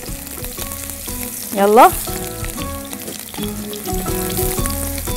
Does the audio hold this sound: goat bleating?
no